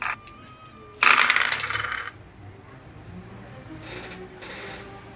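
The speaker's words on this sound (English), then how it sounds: "she rolls 4 dice." Dice roll in a tabletop wargame: a sharp clattering burst of several dice tumbling on a hard surface, followed by quieter rattles and faint handling sounds, close and alone.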